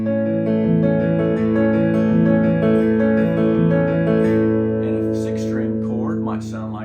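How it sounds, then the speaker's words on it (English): Fingerstyle acoustic guitar picks a five-string chord pattern in a steady rolling rhythm of low bass notes and ringing higher strings, close and clear, with brief noise near the end. "a 5-string chord pattern might sound like this."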